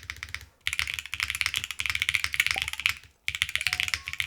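Brisk typing on a custom HE mechanical keyboard, with rapid clustered keystrokes that sound airy and clacky, broken by two short pauses, close and fairly loud with no talking.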